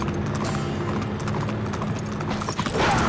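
Horse hooves clip-clopping at a gallop in the action video game Uncharted 3, a steady rhythmic pounding over dense game background noise, ending with a sudden burst of clatter.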